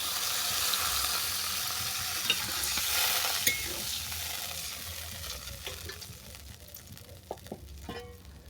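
Vegetables with drumsticks, aubergine and lentil dumplings sizzling in a pan as water goes in, a bright hissing burst that gradually settles into quieter bubbling with a few clicks of a spoon, close by, no talk.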